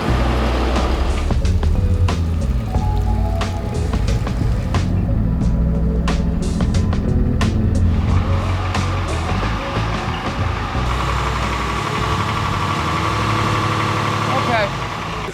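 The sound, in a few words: 5.9 Cummins truck engine running, driven down the street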